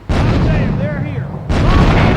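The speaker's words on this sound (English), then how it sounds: "Grenades away!" Grenade explosions in Grand Theft Auto 3 boom loudly and close, one broad blast near the start and a second at about one and a half seconds, over continuous game noise and faint whistling tones between them.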